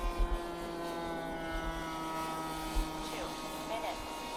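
A Flite Test Space Fighter RC plane flies on a windy day, its electric motor giving a steady faint whine with light wind buffeting in the background.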